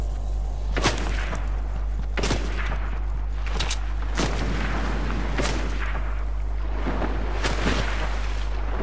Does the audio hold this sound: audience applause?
no